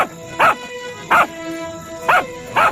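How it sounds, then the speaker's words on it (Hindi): A dog in a pea field barks loudly, four sharp barks in an uneven rhythm, close and alone over a quiet background. "टोनी जोर जोर से भौंकने लगता है"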